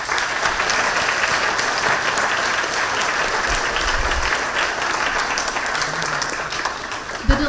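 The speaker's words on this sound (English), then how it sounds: "Can we give it a round of applause for our veterans?" Loud, sustained applause from a crowd at an elementary school Veterans Day event, many hands clapping in a dense steady roar that holds level throughout, with a few louder claps near the end.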